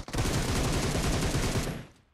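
Sustained automatic gunfire from PUBG Mobile rattles in one loud, rapid burst of close shots lasting about two seconds before cutting off.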